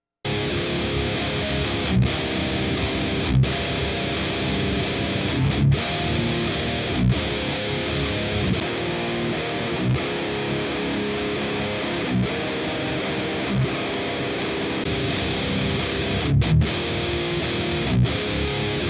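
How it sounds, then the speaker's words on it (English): Heavily distorted high-gain electric guitar through Mesa Dual Rectifier and Rockaverb amplifiers plays dense, continuous riffs with short chugging breaks and brief stops, loud and up front with no voices. "just listen between the dual rectifier and the Rockaverb."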